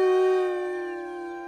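A single long, steady howl from wolf pups in a French Smurfs cartoon, loud and close, slowly easing in volume as it holds one sustained tone.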